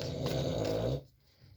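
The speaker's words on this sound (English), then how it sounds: "Sorry for my dog snoring in the background" A dog snores in the background indoors, one rough, drawn-out snore lasting about a second, fairly close and moderately loud, before it fades to near quiet.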